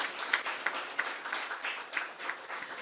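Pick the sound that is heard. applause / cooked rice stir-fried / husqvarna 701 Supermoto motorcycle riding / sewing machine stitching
applause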